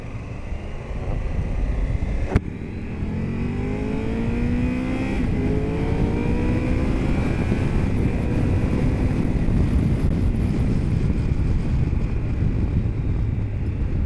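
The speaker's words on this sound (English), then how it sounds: "that was very good test of acceleration and the brakes at the same time" Triumph Tiger 1200 GT Explorer motorcycle pulling hard under acceleration on a test ride, engine pitch climbing and falling as it brakes, heavy wind rush over the microphone throughout, no talking.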